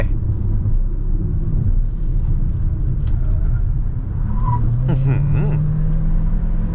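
An MG ZS HEV hybrid SUV with 177 horsepower accelerates on the road, a loud low engine drone rising in pitch over the final seconds, with driver talk audible inside the cabin.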